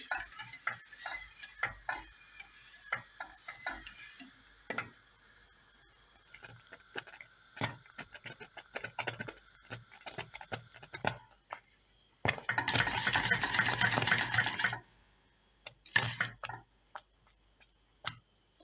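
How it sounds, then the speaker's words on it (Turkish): A spoon slowly stirs a thickening milk dessert in a pot, making close, intermittent scraping and clicking against the metal, with a brief louder rattling burst near the end. "Evet tatlım yavaş yavaş kaynamaya, koyulaşmaya başladı. Bu şekilde yavaş yavaş karıştırıyorum."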